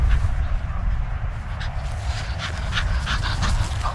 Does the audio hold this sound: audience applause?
no